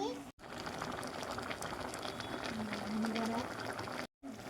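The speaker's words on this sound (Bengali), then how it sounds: "জলপাই একদম ভালো করে সেদ্ধ হয়ে গেছে" Olives boil in a pot of water for pickle, a steady bubbling and simmering with a voice briefly audible over it.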